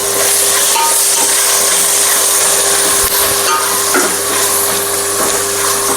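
Chopped tomatoes hit a pan of frying onions for chicken biryani, setting off a loud, continuous sizzle with faint stirring scrapes throughout.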